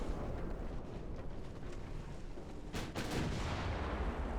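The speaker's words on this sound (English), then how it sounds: "It was one torpedo hit that I didn't see." A torpedo strikes a warship in the naval battle game Ultimate Admiral: Dreadnoughts, a sharp booming impact near the three-second mark rising over a low rumbling background of distant gunfire.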